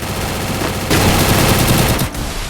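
Free Fire Max gunfire comes as loud, rapid bursts of automatic fire that are close and almost continuous, with one short gap near the end.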